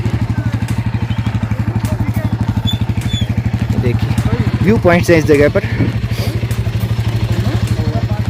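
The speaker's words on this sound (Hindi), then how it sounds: "बाइकर्स आ रहे हैं," Motorcycles arriving at Khardung La pass in Ladakh, a loud steady thumping engine idle with rhythmic pulses throughout and some clatter, while someone speaks over it.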